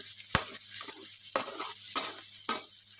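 Garlic frying in a pan toward crispness for Thai garlic chili shrimp, a steady quiet sizzle broken by four sharp spatula scrapes and stirs spaced roughly half a second to a second apart, no voices.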